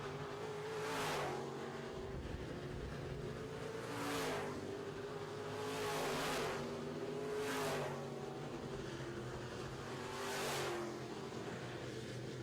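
Midwest modified race cars roar around a track in repeated loud passes, engine tones swelling and fading roughly every two to three seconds over a steady crowd-and-engine drone.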